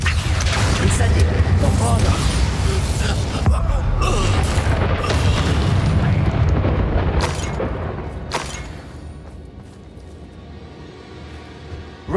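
Incendio fire spell cast in Hogwarts Legacy, a sustained roaring, booming blast of flame and rumble with crackling that gradually fades into quieter ambience with a few sharp hits near the end.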